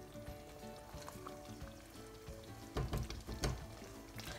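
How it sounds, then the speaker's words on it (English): A lamb and pumpkin curry in the Bangladeshi style bubbles and sizzles softly in a pot, a faint, steady crackle with a few louder pops near the end. "just let it simmer for about 5 minutes"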